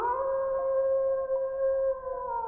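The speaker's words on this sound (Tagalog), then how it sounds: "Umaalulong ang mga aso sa labas." Several dogs howl outside at night in a sustained, overlapping chorus, with long tones that hold steady over a quiet background.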